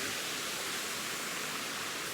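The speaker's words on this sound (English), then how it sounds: "That's a bit of waterfall behind us." A waterfall in Rajasthan roars with a loud, steady, broadband rush of water that carries on unbroken.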